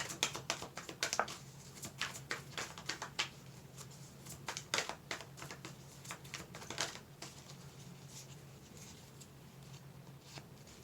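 Rapid, papery riffling and soft tapping of tarot cards being shuffled close by, in uneven bursts that thin out toward the end.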